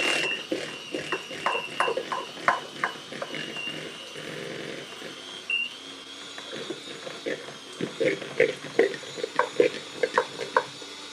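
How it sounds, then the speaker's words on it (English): Butter being whisked and beaten in a bowl for chocolate brownies, a quick rhythmic scraping and tapping that comes in bursts, under a voice speaking throughout. "So I'm now going to just whisk the butter and beat the butter"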